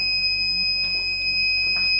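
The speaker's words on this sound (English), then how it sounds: "When it's done, it's going to beep and the piece is ready." A steady electronic beep tone from a Vevor 5-in-1 heat press timer holds throughout, a sustained high-pitched alarm-like signal over a low background hum, with a few faint rustles.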